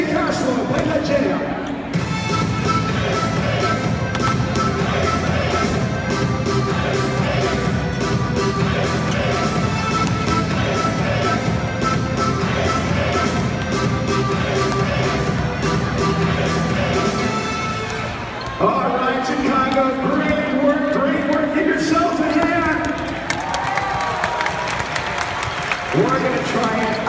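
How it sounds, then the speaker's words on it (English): Volleyball arena crowd at a USA vs Brazil men's match doing a rhythmic clap chant, loud and steady, with music and crowd noise throughout and a brief break before clapping resumes. "it is a slow clap that goes to a faster clap"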